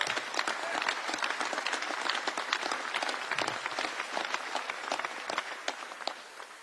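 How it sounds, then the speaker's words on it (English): A crowd applauds at a political bill-signing event, a fairly faint but continuous patter of many hands clapping with scattered sharper claps, no talking. "Give them a round of applause."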